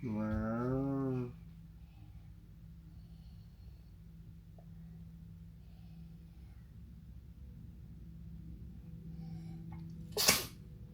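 A young child sneezes once at the start, a short sharp burst, followed by quiet room tone with faint shuffling and a brief clatter near the end.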